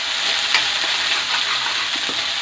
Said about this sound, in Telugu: ఆనియన్స్ కొంచెం ఫ్రై అవ్వనిచ్చి, ఇంకా అల్లం వెల్లుల్లి పేస్ట్ అనేది ఇప్పుడే వేసుకోవాలి